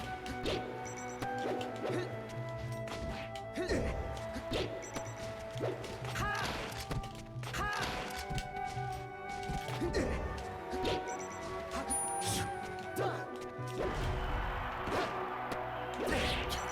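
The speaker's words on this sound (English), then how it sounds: "Two up smashes into forward smash." Up smash and forward smash attacks land in a Super Smash Bros. game, giving a busy run of crashing hits and whooshes over game music, with voices talking through it.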